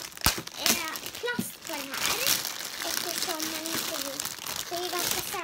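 Plastic packaging crinkles and rustles as a package from a large haul is opened, steady crackling running under a child's chatter and another voice talking throughout.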